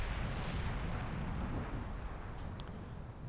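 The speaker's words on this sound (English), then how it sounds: "Oh, oh, we're exchanging fire here." Tanks trade fire in the Combat Mission: Black Sea war game, producing a loud, continuous heavy rumble of booming cannon fire and explosions that holds steady throughout.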